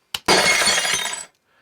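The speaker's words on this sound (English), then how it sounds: "That's a sample of some glass breaking." A sampled glass breaking sound chopped into an electronic music track: a short sharp crack, then a loud bright shatter of tinkling glass for about a second that cuts off abruptly.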